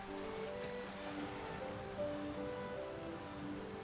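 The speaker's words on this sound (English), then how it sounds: "Waves crash against rocky coves" Waves crash against dark, jagged rocky coves of stacked basalt columns on a volcanic coast with black sand beaches, a steady near surf roar and wash that rolls on continuously without pause.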